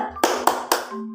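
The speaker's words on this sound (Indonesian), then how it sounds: "Baiklah, kita akan tepuk semangat." Three sharp, evenly spaced hand claps from a classroom of fourth-grade pupils doing a rhythmic spirit clap, loud and close with short decays between.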